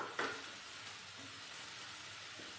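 Onions sautéing in a pan for beef egg bhurji, before cooked beef goes in: a steady close sizzle and hiss with one brief clink of a utensil near the start.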